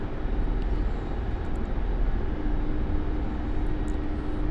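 A Mi-24 Hind helicopter in the DCS flight simulator gives off a steady, loud, broadband engine and rotor drone that holds unchanged throughout, with no talk.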